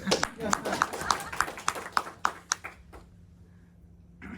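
A small audience at a Toastmasters district speech claps in a short, distinct burst, individual claps audible and fairly quiet, fading out after a few seconds before a voice resumes.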